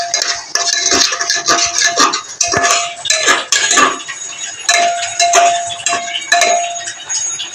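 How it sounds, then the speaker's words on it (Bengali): Red masoor lentils stirred and sautéed in a pan, a loud, close run of repeated metallic scraping and clinking from a spoon against the pan in an irregular rhythm, with no talk. "মসুর ডালটা হালকা কষানো হয়ে গেছে"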